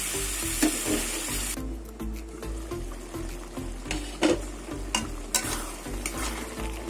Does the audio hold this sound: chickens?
no